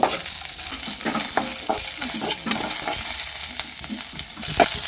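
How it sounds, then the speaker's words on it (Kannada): Half a spoon of cumin seeds crackling in hot oil for a North Karnataka coconut milk sambar, a bright dense sizzle up close with small pops and the scrape of a spoon stirring throughout. "ಅದ್ರಾಗ ಅರ್ಧ ಚಮಚ ಜೀರಿಗೆ ಹಾಕು"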